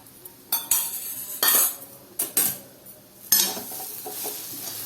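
Beans and lentil usili being stirred in a pan for a Tamil lunch side dish: a spoon scrapes and clinks against the metal in several short, irregular bursts over a low background sizzle, close and fairly loud, with no talk.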